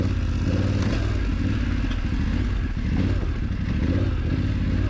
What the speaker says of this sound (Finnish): Kone tosiaan vetää tuolta ihan pieniltä kierroksilta tosi tasaisesti.